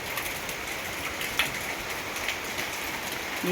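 Steady rain falling, a dense broadband hiss with a few sharper drip-like ticks, alone with no talking.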